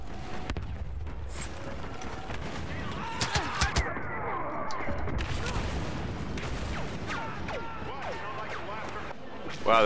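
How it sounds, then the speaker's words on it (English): Explosion in the Star Wars Battlefront video game, a loud burst amid continuous gunfire, blasts and battle noise with voice chatter underneath, followed by a sharp loud hit at the end. "that explosion almost blew me"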